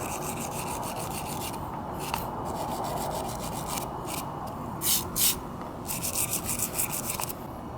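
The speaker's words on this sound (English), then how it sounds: "Went over it with the wire brush," A wire brush scrubs rust off a steel scooter CVT part in quick repeated scratchy strokes, close and fairly quiet, with a few louder bursts near the end and no voices.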